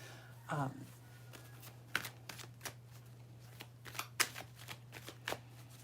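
A deck of romance angel oracle cards being shuffled by hand: a string of crisp riffling flutters and soft slaps that come in uneven bursts, close up over a low steady hum.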